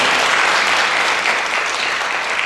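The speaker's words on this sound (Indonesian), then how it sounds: "Kita kasih tepuk tangan dulu buat Mayatul Hikam." Dense, steady applause from an audience fills the whole stretch at close range, a continuous wash of many hands clapping at an Islamic religious gathering, with no voices breaking through.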